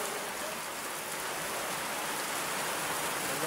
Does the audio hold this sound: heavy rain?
yes